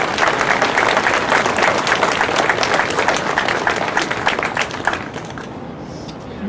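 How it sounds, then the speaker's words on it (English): Sustained applause from a ceremony audience honoring council members at a Vietnam War Veterans Day event, dense steady clapping throughout that thins slightly toward the end. "Give them all a round of applause"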